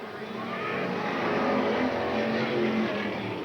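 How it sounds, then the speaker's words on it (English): A Mustang race car at Eugene Speedway roars steadily around the oval track, its engine loud and sustained with other cars' rumble mixed in and no talk. "Randy McDougal in that Mustang moving up past Groshong"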